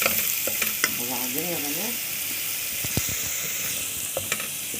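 Garlic and coriander seeds fry in a pan, a steady bright sizzle with occasional stirring scrapes, and someone talks briefly over it.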